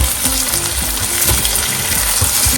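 Curry leaves sizzle in a pan of garlic and ginger while a lemon pickle is made, a loud, continuous crackling fry with bursts of popping and stirring scrapes.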